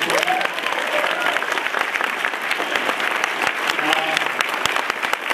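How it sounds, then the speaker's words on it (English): A comic con crowd at a guest's Q&A breaks into loud, continuous applause, with a voice heard through the clapping. "Big round of applause here."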